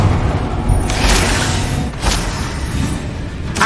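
Confringo spell explosions in Hogwarts Legacy, a few sharp booming bursts spaced about a second apart over a dense rumbling battle din, loud and close.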